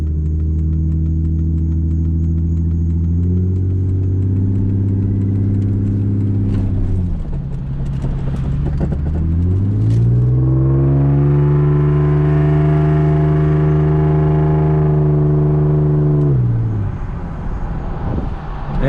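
A Jeep 4.0 inline-six runs steadily while driving, a loud, continuous engine drone with rising and falling harmonics as it shifts through gears, alone with no talk.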